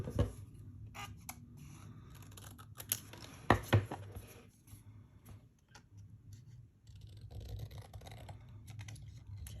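Scissors snip through a paper ticket in a quiet room, a few close, crisp cuts and rustles separated by pauses.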